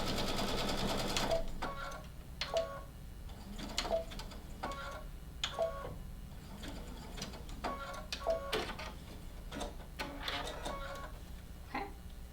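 A sewing machine stitches a coiled rope bowl, reversing direction, with its motor running close and steady. Crisp ticking and clicking mechanism sounds repeat at intervals throughout, and no voices are heard.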